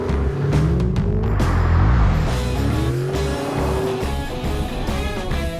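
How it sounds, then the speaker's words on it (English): A Ford Mustang being driven fast, heard as a loud engine rising and falling through gears, with a rising whine and a rumbling exhaust up close. "The rush of driving a Mustang felt like never before."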